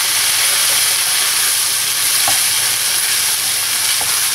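Chicken sisig is stirred in a frying pan, with a loud, continuous sizzle, a few sharp utensil scrapes and no talking.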